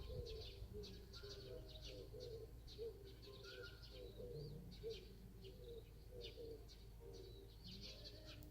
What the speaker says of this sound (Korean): 구구구 하는 소리요.